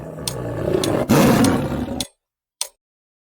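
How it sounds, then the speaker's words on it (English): A tiger gives a loud, close roar lasting about two seconds, followed by silence and a brief faint click. "It's a tiger."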